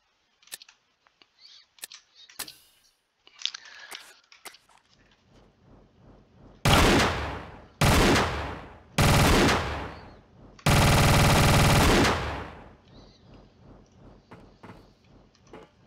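Gunfire from an equipped weapon in Tomb Raider: The Angel of Darkness, heard as four loud sustained bursts that start and stop abruptly and grow longer toward the end, after some scattered clicks and knocks from the game.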